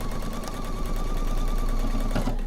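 A sewing machine stitching quilt pieces together runs in a steady, close mechanical whir with a rapid needle rhythm, continuous throughout with no talk.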